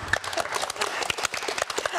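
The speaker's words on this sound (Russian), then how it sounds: "Аплодисменты." Applause from a studio audience at a televised chess-style match show, a dense patter of many hands clapping steadily for two seconds, fairly close and continuous.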